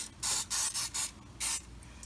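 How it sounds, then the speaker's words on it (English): Oil spray hisses onto flour-coated chicken wings in five short, loud bursts of about a quarter second each, separated by brief quiet gaps. "So I spray the chicken."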